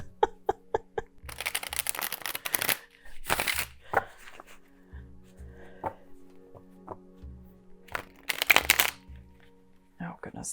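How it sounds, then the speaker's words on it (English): A tarot card deck is shuffled by hand in several quick, crisp riffling bursts, close and clear, separated by quieter taps and handling noises, with a voice speaking in between. "this deck and it is really causing me to struggle with shuffling it"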